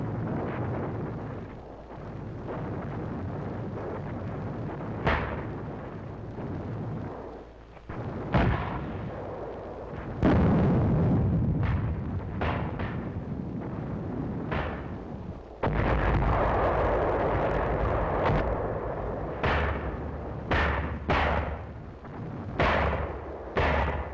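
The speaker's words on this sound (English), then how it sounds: "We called back for mortars and 155s." Battlefield WW2 artillery barrage of mortars and 155mm guns at the Battle of Angaur, with repeated sharp blasts and booming impacts landing at irregular intervals over a continuous rumbling battle din, no voices.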